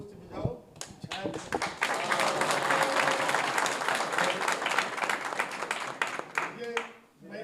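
An audience at the opening of a body and mind centre at a Krishna Nagar police station claps loudly for several seconds, then the applause thins to scattered claps.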